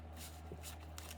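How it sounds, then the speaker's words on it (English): Stiff tarot cards being shuffled by hand, a short soft riffle of quick papery flutters close up over a low steady hum. "This is a very good shuffle."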